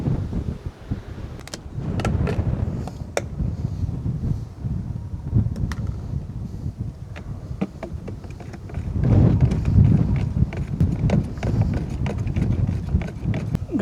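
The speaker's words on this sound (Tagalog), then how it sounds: "Grabing hangin po yan." Strong wind gusting outdoors around a swaying solar-panel light pole, a continuous loud rumbling roar with rattling and buffeting that swells stronger toward the second half.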